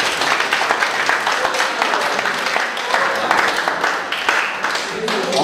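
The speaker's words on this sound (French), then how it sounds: "on va applaudir pour le dernier de la classe pour l'encourager" Dense, steady clapping from a class of pupils at a reforestation awareness gathering in Yoko, continuing for several seconds without pause, fairly loud and close.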